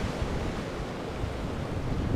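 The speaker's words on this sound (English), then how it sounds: "Watching the waves come through it, that's pretty neat." Ocean waves surge and wash through a large hurricane-felled tree stump on a beach at Hunting Island, South Carolina, a steady, loud broadband wash with wind noise on the microphone and no talk.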